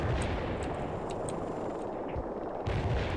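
A mortar artillery barrage in the war strategy game World in Conflict, a dense rumbling wash of distant shell impacts and gunfire with a few sharper cracks, loud and continuous.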